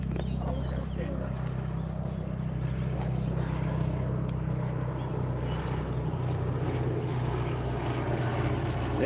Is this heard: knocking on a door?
no